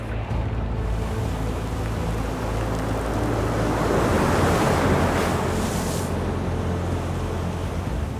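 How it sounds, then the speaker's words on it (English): Heavy Pacific Ocean surf crashes and churns continuously with howling hurricane-force wind, swelling louder in the middle before easing slightly. "in the raging hurricane-force gusts, every team must face the mighty Pacific head-on."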